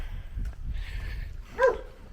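One short, sharp bark from a dog along a hiking trail in Peru, moderately close, over low ambient rumble.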